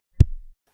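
One heavy, bass-rich kick drum thump, EQ'd with cut highs and boosted lows, heavily compressed and saturated, with little high end, a short sustained low tail, then silence.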